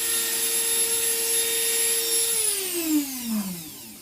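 A rotary tool's broken flex shaft gives a steady high-pitched motor whine that runs continuously, then its pitch slides downward as the machine spins down near the end.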